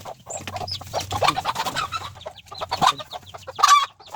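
Chickens cluck and call repeatedly on a rural farm, the bursts close and fairly loud and coming in an uneven rhythm, with no talking.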